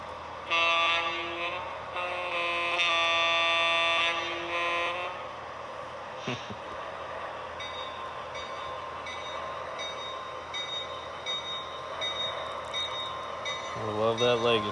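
Lionel Legacy model train with its horn sounding in long, loud sustained blasts early on, then quieter running and rumble of the locomotive; people talk briefly.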